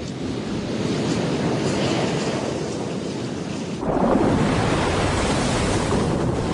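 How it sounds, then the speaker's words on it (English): Ocean waves rolling at the sea surface as the wind picks up, a steady broadband wash that swells louder partway through, with no voices. "It's just the sound of waves above, but what it says is that the wind is picking up."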